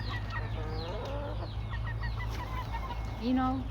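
Chickens cluck and chatter steadily close by, with one louder drawn-out squawk near the end over a low background hum.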